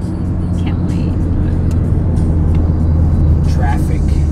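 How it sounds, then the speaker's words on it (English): Road traffic on the way to the beach makes a steady broad roar of passing cars and engines. Faint voices come through in the background. "Traffic."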